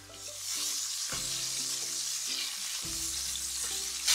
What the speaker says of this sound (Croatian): Odreske znači pržimo i sa jedne i sa druge strane